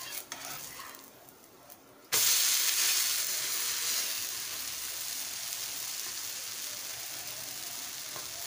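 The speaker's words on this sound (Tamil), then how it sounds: "தோசை வேகட்டும்" Masala dosa cooking on a hot griddle: a strong, steady sizzle bursts in after a quieter stretch, then settles into a continuous loud frying hiss with no one talking.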